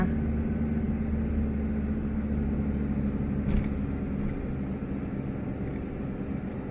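A manual car's engine drones steadily in first gear as the accelerator is pressed lightly during a driving lesson, a continuous low hum with a brief bump near the middle and no talking.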